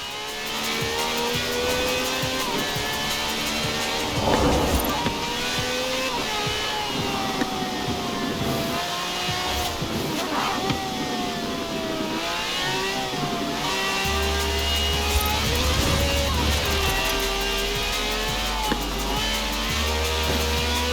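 A V12 car with over 750 horsepower in the racing game Forza Horizon 4 revs and pulls hard, its loud engine note rising and falling through gear changes for the whole stretch without pause.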